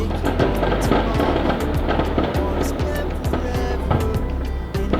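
Fireworks burst repeatedly in a rapid, crackling series of sharp bangs and pops over a dense, continuous roar, loud and sustained throughout with no pause between the explosions.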